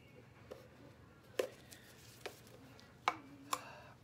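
A stir stick prying the lid off a container of Galaxy Stone, with a handful of faint, sharp clicks and snaps spread irregularly over a quiet background.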